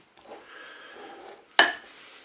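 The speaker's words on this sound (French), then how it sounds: "Vous mélangez." A spoon stirs lentil and avocado salad in a bowl, a soft close scraping and rustle followed by one sharp clink of utensil against the bowl, heard alone.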